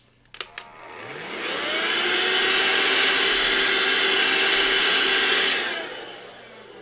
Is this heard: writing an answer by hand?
no